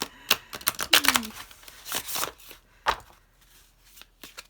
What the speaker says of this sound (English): So I'm just shuffling my cards